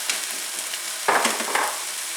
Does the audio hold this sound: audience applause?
no